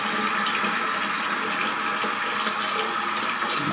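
Water rushes steadily into a running toilet tank as it refills, a continuous close, loud hiss and gush with no talking.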